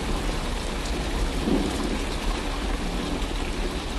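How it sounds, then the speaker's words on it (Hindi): Rain mixed with hail pours down on crop fields, a dense, steady hiss of falling water and ice with a low rumble beneath, constant throughout and free of voices. "कुछ ही देर में बारिश के साथ साथ ओले भी गिरने लगते हैं।"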